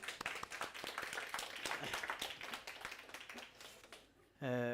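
A church congregation at a Sunday worship service claps together in a dense, steady burst that stops abruptly, followed by a voice speaking.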